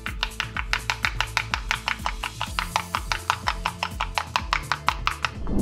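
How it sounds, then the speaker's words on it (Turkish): Egg yolk and olive oil face mask whisked briskly in a bowl, fast even tapping strokes at a steady rhythm, close and distinct, no voices. "Karıştırıyorum."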